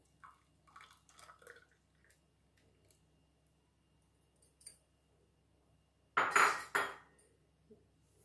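Homemade summer fruit juice, freshly blended and strained, splashes into a glass in one short burst of pouring near the end, after a long quiet stretch with a few faint kitchen clinks.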